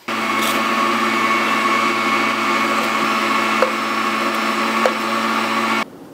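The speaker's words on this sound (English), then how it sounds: "back to the grinder." An electric meat grinder grinds cured pork with water added, giving a steady, loud motor whine with a constant hum that runs nearly six seconds before switching off.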